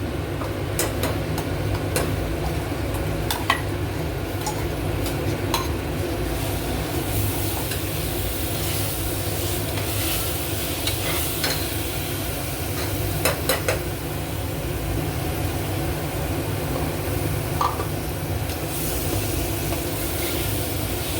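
Ground masala paste frying in a pan for vajadi masala, a steady sizzle with intermittent scraping stirs and clinks, continuous and close with no talking.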